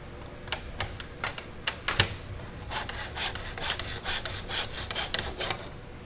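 Hand saw cutting a wooden frame piece in a miter box, a steady run of rasping back-and-forth strokes, close and moderately loud, with no talking.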